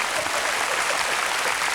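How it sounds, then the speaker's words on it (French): A crowd at a close-up card magic show applauds a performer, a dense, continuous wash of clapping heard from a moderate distance with no single claps standing out. "Vous pouvez l'applaudir plus fort."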